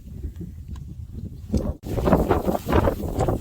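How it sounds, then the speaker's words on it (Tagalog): Strong wind buffets the microphone at the Cabog Cabog view deck in Bataan, a low roaring rush that swells loudly about halfway through and keeps gusting to the end. "Ayun na, sobrang lakas ng hangin."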